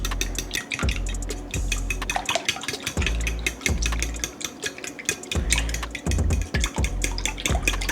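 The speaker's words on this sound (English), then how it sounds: "We're gonna give this a good mix." Omelet ingredients whisked in a bowl, brisk rhythmic clinking and tapping of utensil against the bowl with short wet sloshing bursts, close and fairly loud with no speech.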